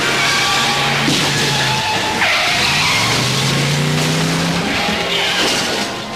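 A taxi's tires skid and squeal under hard braking in a 1990s animated Spider-Man scene, with several long screeching sweeps over a rumbling car engine, loud and close.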